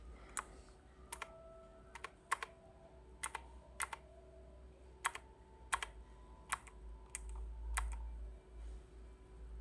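Individual keypresses on a Fuhlen Heimdallr mechanical gaming keyboard with blue switches, sharp clicky strokes spaced about a second apart, close and distinct over a quiet low hum.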